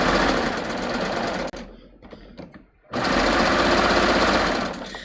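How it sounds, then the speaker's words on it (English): A serger overlocks skinny elastic onto fabric, a loud, close, steady mechanical whir for about a second and a half, then a pause filled with faint handling sounds before the machine runs again steadily to the end. "start serging again"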